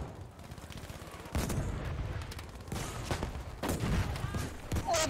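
A Japanese light machine gun firing in the video game Battlefield V during a Pacific-theater battle, heard as sustained rapid bursts of gunfire with heavier booming impacts, fairly loud, with a few voices faintly mixed in.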